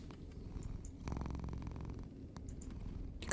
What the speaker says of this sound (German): Die Katze schnurrt.